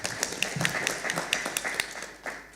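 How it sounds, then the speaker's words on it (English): Conference audience at an international wildlife scientific conference applauding the presenters, a modest scattered clapping with distinct individual claps, fairly faint and thinning out toward the end. "let's clap for the presenters and ourselves"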